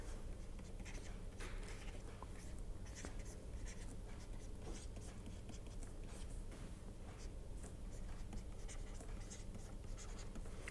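Chalk or marker scratching across a board as equations are written during a lecture, a faint continuous scraping texture beneath low room hiss, with no speech.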